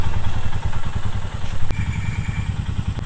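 A close, loud motorcycle engine idles with a rough, pulsing throb, with a couple of sharp clicks in between.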